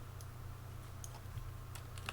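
Quiet keystrokes on a computer keyboard as a web address is typed, a scattering of light, irregular clicks over a low steady hum.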